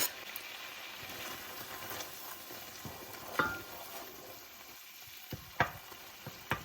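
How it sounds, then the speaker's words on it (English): Tomatoes with basil and garlic simmering in a pot, soft continuous bubbling sizzle with occasional stirring knocks and spoon scrapes, close and fairly quiet, no speech. "Just trying to simmer down all these tomatoes"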